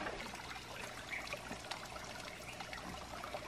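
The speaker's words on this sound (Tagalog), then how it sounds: "Diyan dadaloy ang tubig para may malinis na tubig tayo." Spring water runs out of a hose in a steady, soft trickle and splash, continuous and fairly faint, with no speech over it.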